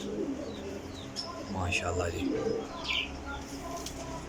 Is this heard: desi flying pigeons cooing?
yes